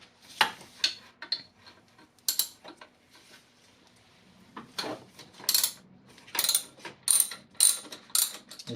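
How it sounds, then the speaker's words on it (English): A ratchet clicks while loosening a 14 mm nut on the AC idler pulley of a 1999 Acura RL, with sparse single clicks and then a quicker run of sharp, close ratcheting strokes, and no speech. "go ahead and loosen up this nut right here on the AC idler pulley"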